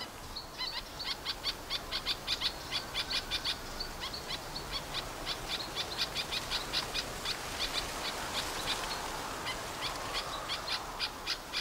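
A steady series of rhythmic, repeated bird calls, fairly close, continuing for several seconds over a background hiss, at Blyde Canyon in South Africa.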